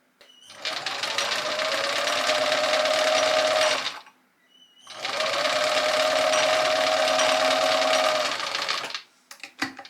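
A sewing machine zigzag-stitches pieces of brown wool together, running in two long, steady bursts of close, loud whirring with a short pause between them.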